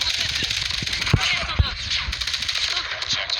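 Automatic video-game gunfire from a Switchblade X9 rattles in rapid bursts, with a few sharper, louder shots standing out over a busy, continuous mix of game sound.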